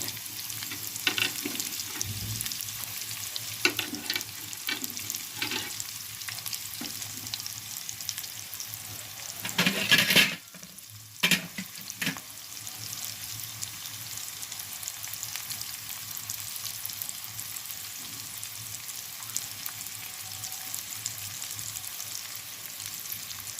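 Chopped onion and six green chillies fry in oil for a curry, giving a steady, close sizzle with light stirring scrapes and a couple of louder clatters midway, and no voices.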